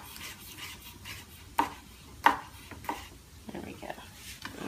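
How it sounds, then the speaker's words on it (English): A knife chopping a single cherry tomato on a board in a kitchen, giving a few sharp, separate cuts among soft handling noises while someone talks. "I have this one extra one, I'll just chop up and put it in."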